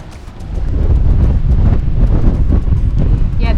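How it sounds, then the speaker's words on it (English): Strong wind roars across a microphone on a moored boat just after Hurricane Henri, a loud, continuous low buffeting rumble with gusty pulses and faint water splash underneath. "It was still incredibly windy despite Henri passing"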